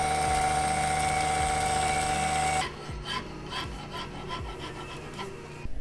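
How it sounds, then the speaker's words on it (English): Filing burrs off a hacksawn metal piece while making a frame alignment gauge, first a steady continuous rasping that stops partway, then scattered scraping strokes and light knocks close by, with no talk. "I'll take off the burrs, we'll flip it over, side 2."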